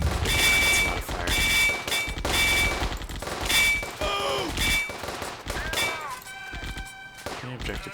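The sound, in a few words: infantry gunfire in video game Firefight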